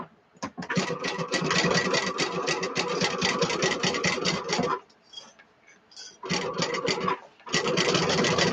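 Sewing machine stitching the seam of a small cosmetic bag for a craft show, two long bursts of steady fast needle chatter broken by a short pause, close and loud with no talk.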